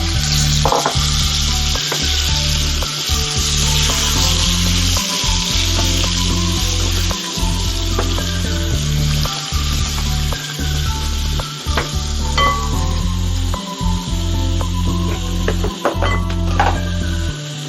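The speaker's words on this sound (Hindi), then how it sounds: "अब एकरा नीक जेना फोरन के गरम कऽ लेब" Indian tempering spices with asafoetida sizzle steadily in hot oil for a Mithila-style dish, a loud, close, continuous frying hiss with the occasional scrape of stirring.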